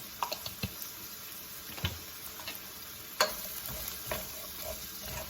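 Ground turkey steaks sizzle quietly in a pan, a soft continuous frying hiss broken by occasional small pops and ticks, with no talk.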